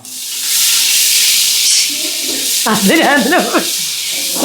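Small onions (shallots) fry in a pan with a little salt, giving a steady, loud hissing sizzle throughout, with a voice speaking over it in the second half.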